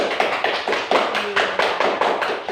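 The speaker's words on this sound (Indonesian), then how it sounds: "tepuk tangan lagi untuk teman" Classroom applause for a classmate: a group of students clapping steadily in repeated quick bursts for about two and a half seconds, close and fairly loud, with no talking.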